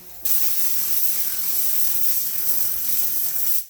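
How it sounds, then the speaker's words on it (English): A steady, close hiss of liquid sprayed onto a clay towel for car detailing, starting abruptly and continuing for a few seconds before cutting off. "spray your towel"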